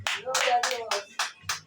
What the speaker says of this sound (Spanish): un aplauso al que vive. Fuerte, fuerte en este día.